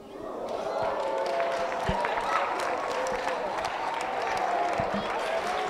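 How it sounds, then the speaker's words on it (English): Members of a children's parliament clap and make noise in the chamber, a dense, even wash of applause with crowd murmur and occasional knocks, lasting several seconds at moderate distance. "An applause is just enough."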